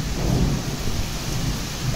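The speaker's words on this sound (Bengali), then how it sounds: "সন্ধ্যের পর থেকে তো শুরু হলো তুমুল বৃষ্টি আর ঝড়" Heavy evening rain pours down steadily in a thunderstorm, with a deep continuous rumble of thunder and wind running underneath a dense, loud hiss of rainfall.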